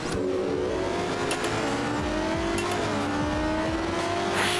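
Revving engine of a supercar in the racing game Test Drive Unlimited, loud and continuous, with rising and falling pitch from wheelspin and light tyre squeal throughout.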